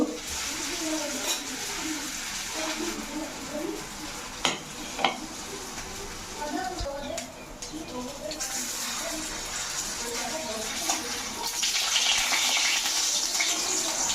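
Paneer pieces fry in a pan, a continuous close sizzle with scattered pops and the scrape of stirring, while someone talks over it at times.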